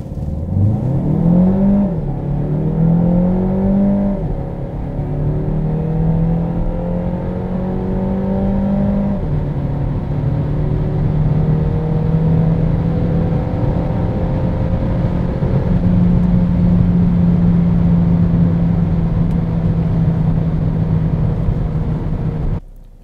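Renault Megane sedan with a 1.3 TCe 140 engine and EDC gearbox accelerating hard from rest in sport mode: a loud interior engine drone climbs in pitch, drops briefly at upshifts, then holds a steady strong hum.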